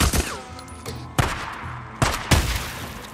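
Shotgun fire in the Days Gone video game, four loud, sharp blasts spaced unevenly over a few seconds, each trailing into a brief ringing decay, with no talk over them.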